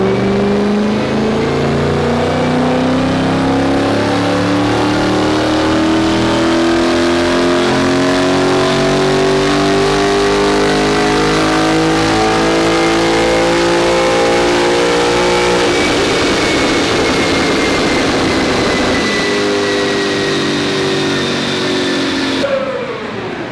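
An Audi S4 on a dyno for a run, its engine revving loud and close in one long climbing pull with a rising drone, then a brief rough stretch before cutting off sharply near the end.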